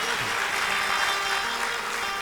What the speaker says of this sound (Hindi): एक बार इससे भी कमजोर ताली बजाना